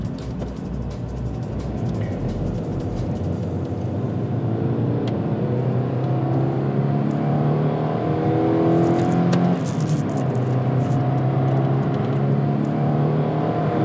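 Mazda 323F engine while driving, a steady moderate drone with road and cabin noise, the pitch gradually rising as it accelerates, heard from inside the car without talk.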